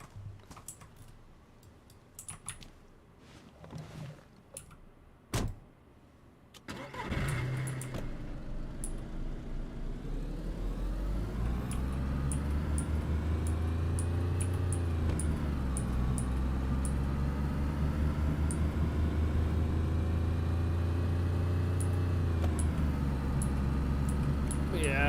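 A car engine drones in DayZ after a few seconds of clicking and ticking, rising in pitch as the vehicle accelerates and holding a steady, loud hum with gear-like shifts.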